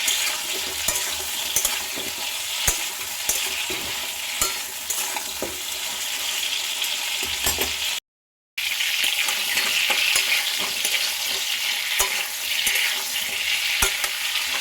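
Pointed gourd (potol) pieces fry in oil on a gas flame set between high and medium, giving a steady close sizzle broken by sharp stirring scrapes, with a brief silent gap partway through.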